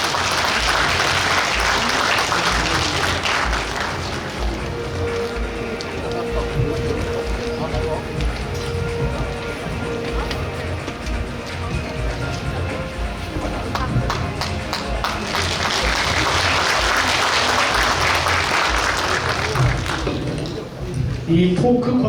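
A hall audience at a book launch applauds as the author is welcomed on stage, a dense, loud wash of clapping that dips in the middle while voices carry over it, then swells again.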